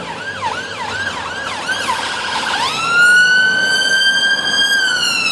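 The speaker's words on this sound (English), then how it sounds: "hello, Mr. Ambulance" Loud ambulance siren nearby, a fast wailing yelp that switches to a long steady rising wail.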